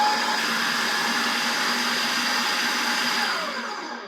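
A blender whirs steadily and loudly, mixing chickpeas in one continuous run with no voices over it, then winds down toward the end.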